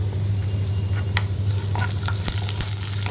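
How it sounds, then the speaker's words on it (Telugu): Curry leaves fry in hot oil for jeera rice, giving a continuous close sizzle over a low steady hum, with a handful of quick crackles and pops. "ఆయిల్లో బాగా ఫ్రై చేసుకోవాలండి"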